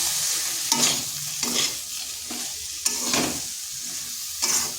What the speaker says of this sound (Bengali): এরপর এই মশলার সাথে ভালো করে কষিয়ে নিচ্ছি।